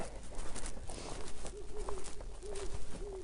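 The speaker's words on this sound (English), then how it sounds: "Can you hear the owl? There's many, actually." Several owls hoot outside a home at night, a few faint, low, evenly spaced hoots carried over steady background hiss.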